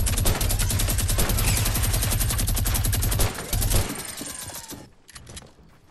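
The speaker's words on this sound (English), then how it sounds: "And now it's just minigun time." A minigun in the video game Fortnite fires a long, rapid, unbroken burst of loud shots for several seconds, then stutters and cuts off, with a few scattered shots trailing after.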